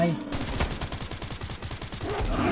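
Rapid automatic gunfire in the video game STALCRAFT, a dense string of loud, evenly spaced shots in quick bursts with almost no gaps.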